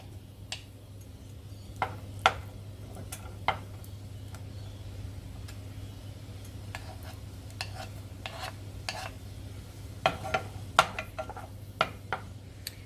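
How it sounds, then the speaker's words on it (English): Butter melts in a pan for a white sauce over a steady low hum, with scattered sharp clinks and taps from a utensil against the pan. "I have 75 grams of butter, which I have to melt"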